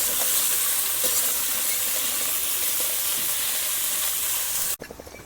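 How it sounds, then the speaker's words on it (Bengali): Cauliflower, carrots and beans frying in hot oil in a pan for fried rice, a loud close steady sizzle and hiss that cuts off abruptly near the end, followed by a few faint clinks. "ফুলকপিটা আগে দিয়েছি, আর গাজর আর বিনস পরপর দিয়ে দেব। হালকাভাবে ভেজে নেব।"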